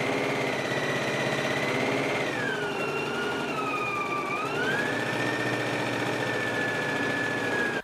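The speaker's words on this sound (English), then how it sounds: "I'm going to go ahead to my machine now and stitch it at a 5/8 of an inch seam allowance." A sewing machine runs without a break as it stitches a jumpsuit leg seam. It gives a loud, steady motor hum with a high whine that shifts pitch partway through, and no talking is heard.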